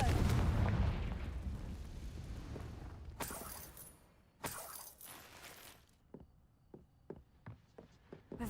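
In the Hogwarts Legacy video game, a Confringo blasting spell goes off as a loud rumbling burst, then two sharp cracking blasts, followed by a scatter of small debris clinks and taps.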